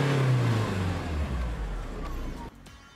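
A Force Gurkha Xtreme 4x4's 2.2-litre turbo diesel engine rev rising, holding and then dropping off, a loud, steady engine roar heard from inside the vehicle.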